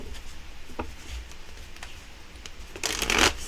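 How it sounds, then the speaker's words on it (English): Crow Tarot cards are shuffled by hand close up, giving soft, irregular riffling and sliding sounds that build to a louder, denser flurry near the end. "All right, so we are going to shuffle. This is the Crow Tarot that I'm using."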